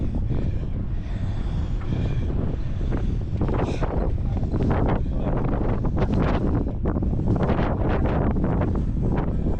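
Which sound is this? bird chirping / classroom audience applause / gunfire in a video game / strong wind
strong wind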